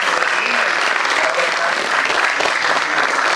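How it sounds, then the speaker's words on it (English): Dense, steady applause from a large audience at a criminal justice research event, sustained and loud for the whole stretch with faint voices mixed in. "That really needs a big round of applause."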